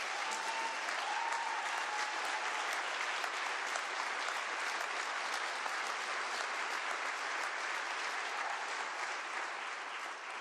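Members of the Washington state legislature applaud during the governor's State of the State address, a loud, sustained wall of clapping from a large chamber crowd with no break.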